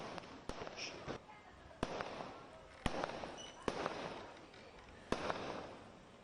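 Fireworks go off at home to celebrate Neeraj Chopra's Olympic javelin silver medal. Several sharp, echoing bangs come at irregular intervals, followed by lingering crackle, with faint background noise between the blasts.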